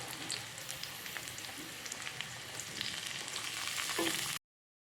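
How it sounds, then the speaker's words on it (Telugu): Onion, green chillies, carrot, beans and corn fry in a pan for paneer fried rice, a dense close crackling sizzle with scattered pops, steady for about four seconds before cutting to silence. "అందులోనే క్యారెట్ని, బీన్స్ని, కార్న్ని వేసుకొని బాగా వేయించుకోవాలి."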